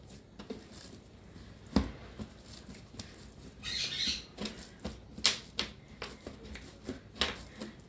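A small pet parrot gives a bright squawk amid scattered clicks, taps and rustles in a home kitchen while brioche bread dough is made.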